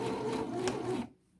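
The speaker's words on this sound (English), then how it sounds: "I'm going to sew all the way down this section until I get to the pleats" A sewing machine runs steadily while stitching a box-pleated skirt seam, a close, even mechanical whirr with rapid needle chatter for about a second before stopping abruptly into quiet.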